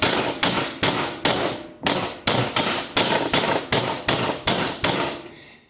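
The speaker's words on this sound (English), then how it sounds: "You start pounding it out like this to get it to your desired thinness." A heavy meat mallet pounds venison schnitzel thin on a cutting board, landing about fourteen sharp, loud thuds in a fairly steady rhythm. Each blow rings off briefly before the next, with no talking.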